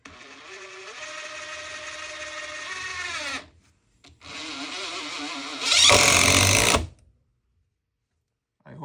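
A regular impact driver sinks a number 10 3.5-inch deck screw, its motor whirring through a slow feathered run, then a second faster run ending in a loud, close burst of rapid hammering impacts.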